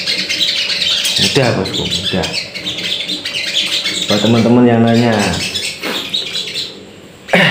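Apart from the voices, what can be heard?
sogon bird calling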